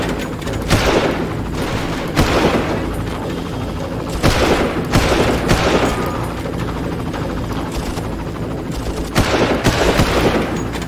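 Far Cry gunfire comes in loud bursts of automatic rifle shots and booms, several volleys spaced every second or two across a steady noisy battle background, close and harsh.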